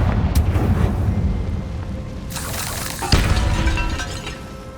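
A Confringo blasting spell exploding in Hogwarts Legacy, a deep rumbling blast followed by crashing, shattering debris and a second loud impact, heavy and close throughout.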